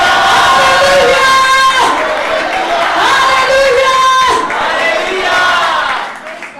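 Church congregation at a Hindi-language Christian service cheering and shouting hallelujah together, a loud sustained crowd roar with voices swelling in repeated waves and likely clapping underneath, fading out at the end.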